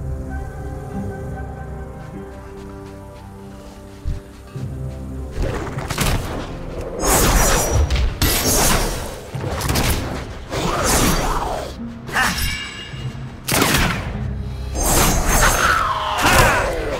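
Azerite Blast spell in World of Warcraft: a quiet humming lead-in, then a run of heavy booming blasts with whooshing swells repeating every second or so, loud and close.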